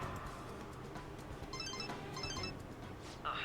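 A phone ringtone chirps in short repeated melodic bursts in Persona 5 Royal, faint against a quiet game background.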